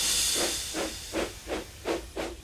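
Thomas the Tank Engine, a steam locomotive, pulls away with five loud, evenly spaced chuffs of escaping steam over a constant bright hiss, with no voices.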